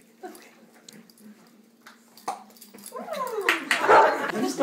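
A 13-year-old dog whimpers and yips at a family gathering, short cries rising into louder excited vocalizing near the end, with people talking around it.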